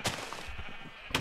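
Sheep bleat in Minecraft, a few short synthetic bleats close by over a steady game background, with a last bleat at the very end.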